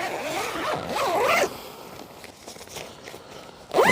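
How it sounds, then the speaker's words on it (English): The side of a budget winter hot tent, a Pomoly Stove Hut 70, is zipped back up: two drawn-out zipper runs close by, then a quieter pause of fabric rustle before a final sharp zip. "So what I need to do now is zip this side back up."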